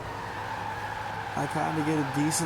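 A Ford Mustang drifts around a roundabout in Forza Horizon 4, its engine droning steadily before rising tire squeal and revving swells take over in the second half, close and fairly loud under a player's speech.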